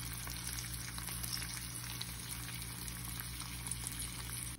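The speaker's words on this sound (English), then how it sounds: "This is the bread. I'm gonna put it in a pan and see if I can toast it at all." Irish soda bread toasting in a frying pan, giving a steady, soft sizzle with a constant low hum underneath, unbroken and without talk.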